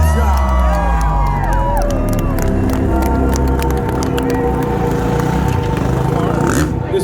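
A large hometown crowd at a Monster X Games motocross show at the Calgary Stampede cheers and whoops loudly, with a continuous roar of many voices, scattered claps and motorcycle engine drone underneath.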